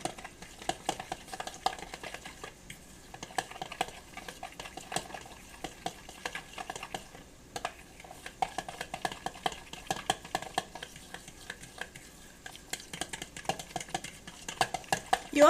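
A fork rapidly mixing cinnamon chia pudding in a bowl, a continuous run of quick, light clicks and taps against the dish, steady and close throughout.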